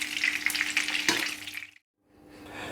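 Thick minced-meat bricks searing in a pan, a loud steady sizzle that cuts out abruptly partway through, then returns more softly after a brief silence.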